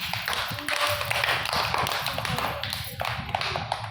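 A group of students claps hands together during a Tamil primary-school mental math lesson: a dense, steady burst of many overlapping claps lasting the whole stretch, close and fairly loud.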